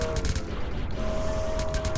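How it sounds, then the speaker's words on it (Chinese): Sniper rifle shots in the Roblox game fire as a few sharp reports at a steady, moderate level, with a continuous game tone underneath and no talking. "我拿着狙击枪射他的头"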